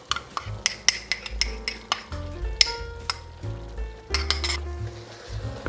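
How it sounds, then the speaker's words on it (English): Beef stroganoff being stirred in a pan after a sour cream mixture goes in, with repeated clinks and scrapes of a utensil against the metal pan over a soft sizzle, close and steady throughout. "Give it a good mix."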